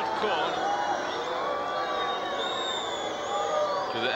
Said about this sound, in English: To the aggravation of a lot of people in the crowd, as you can hear.